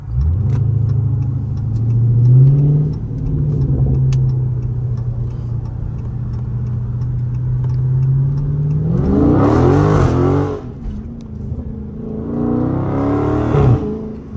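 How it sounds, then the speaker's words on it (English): A Dodge Charger's engine revs hard and holds a steady loud drone, then two sharp surges of acceleration as the car slides, loud and close with no talk. "I haven't slid my car in so long."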